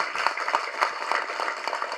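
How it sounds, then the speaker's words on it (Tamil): An audience at a film audio launch event claps in a quick, even rhythm, with a short burst of applause that stays at a moderate level and carries no speech. "கண்டிப்பாக அதற்கு ஒரு பெரிய கைத்தட்டல் ஜேபேபிக்கு"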